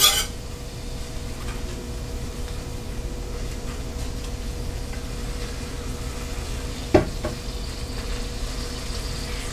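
Vegetables including celery sautéing in a pan on a stove, a faint steady sizzle throughout with a brief clatter near the end.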